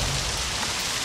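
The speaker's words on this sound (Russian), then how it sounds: "я думал на улице дождь. а это просто водопад." Heavy downpour in the video game Far Cry 6 roars loud and close, a thick unbroken rush of water with a deep rumble underneath, and no one speaking.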